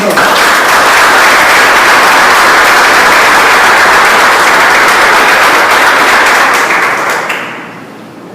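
A church congregation applauds the Lord in sustained, loud, dense clapping with crowd noise, holding steady before fading out near the end.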